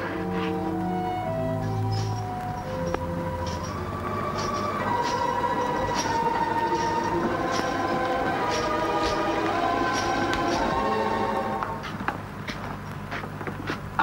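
A train running in a 1948 film, a continuous rolling rumble with rhythmic wheel clatter and tonal whistle-like drones, steady and fairly loud throughout, easing off near the end.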